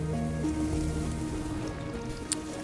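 Rain in the video game Endzone: A World Apart falls as a steady, even hiss of drops with no break, heard alone with no voices over it.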